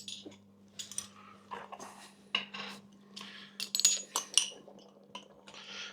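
A metal teaspoon clinks and taps against a jar and bowl while Dijon mustard is spooned out for beef stroganoff, giving scattered light chinks and scrapes, close and quiet over a steady low hum.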